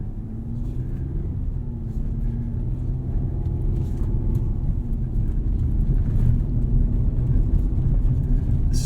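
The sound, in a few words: Chevrolet Colorado ZR2 pickup truck driving off-road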